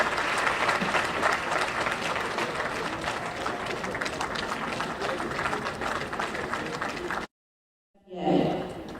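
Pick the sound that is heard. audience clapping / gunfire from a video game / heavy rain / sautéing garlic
audience clapping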